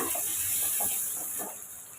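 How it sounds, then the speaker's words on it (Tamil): Ginger, garlic, onion and chili sauté in a pan for cauliflower fried rice, giving a steady close sizzle and hiss with soft stirring scrapes throughout. "இது வெங்காயம் மிளகாய் இப்போ இதை வதக்கி எடுத்துக்கோங்க"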